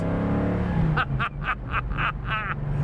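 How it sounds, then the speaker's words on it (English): A 1967 Ford Mustang's 390 engine runs at half throttle with a deep, steady rumble, overlaid by a series of rhythmic mid-pitched pulses about every quarter second, heard up close. "Let's listen to that 390 again for a minute. Half throttle, guys."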